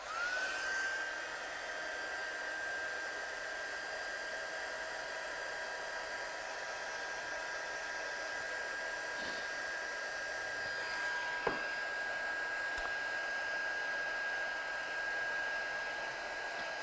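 A hair dryer blows continuously to dry ink on a craft card, a steady whooshing hum with a constant whine, close and even in level, with a couple of faint knocks partway through and no talk.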